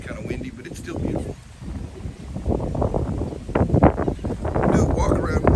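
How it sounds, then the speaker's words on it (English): Gusty wind blows outdoors by the water near a 2013 Majek Xtreme boat, buffeting the microphone in rising and falling rumbles that grow stronger toward the end, with a person talking over it. "Actually, it's kind of windy, but it's still beautiful."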